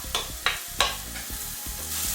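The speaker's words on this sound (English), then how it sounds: "we drop a piece of onion, so I'd say it's going. It's starting to sizzle." Onion pieces sizzle in hot olive oil in a soup pot, a steady close frying hiss with a few sharp bursts and stirring clatter, with no talk.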